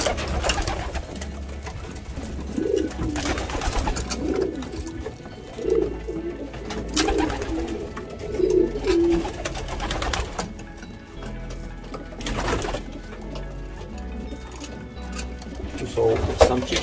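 Racing pigeons coo steadily in an aviary in low, rolling calls, several birds overlapping, with a mechanical hum and occasional knocks in the background.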